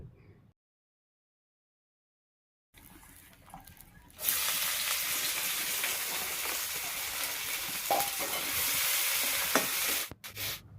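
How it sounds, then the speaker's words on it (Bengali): After a stretch of near silence, a soft hiss rises into a strong, steady sizzle of onions frying in oil with cumin and dried chillies over a wood fire, close by, fading out at the end. "তেলের ওপরে যে পেঁয়াজটা দেওয়া হয়েছে"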